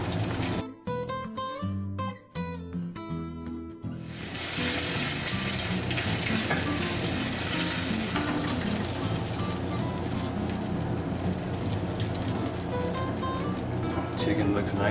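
Pieces of chicken for a braise fry and brown in a pan, a continuous loud sizzle that takes over after a few seconds of music and carries on steadily to the end.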